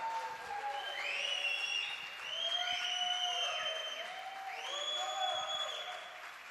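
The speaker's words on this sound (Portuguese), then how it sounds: "uma salva de palmas ao nosso querido pastor Adivaldo." Applause and cheering from a church congregation at a family conference welcoming the pastor, heard at a distance and fairly faint, with sustained voices and whoops over the clapping.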